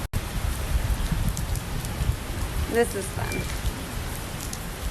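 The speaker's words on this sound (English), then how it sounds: "literally 30 seconds later it pours" Heavy rain pours down hard during a road trip in Puerto Rico, a dense loud hiss of drops drumming on surfaces throughout, with a person speaking briefly over it.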